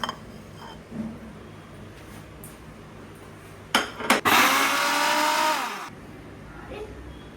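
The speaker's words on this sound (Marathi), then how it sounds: "कांदा, 1 वेलची आणि सुकं खोबरं जे आहे ते मिक्सरला लावून त्याचं वाटण करून घेऊया" A kitchen mixer grinds onion, one cardamom pod and dry coconut into a paste for a mutton dish: a loud, whirring burst lasting under two seconds, preceded by a few light clinks and handling knocks.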